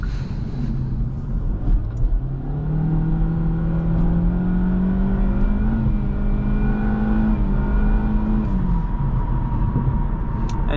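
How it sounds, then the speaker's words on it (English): Steady roar of road and tire noise inside a moving 2024 Kia Forte GT-Line with a CVT, with a low engine drone that rises slowly in pitch, loud and continuous. "Obviously road noise is pretty high in this, as well as tire noise."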